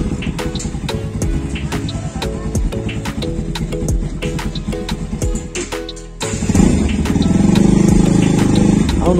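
A motorcycle engine runs near a busy fairground, a choppy idling rumble under music and crowd noise, then rising into a louder, steadier drone in the final seconds.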